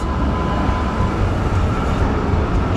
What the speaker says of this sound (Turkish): Burada böyle eski usul tramvaylarla ulaşımlarını sağlıyorlar.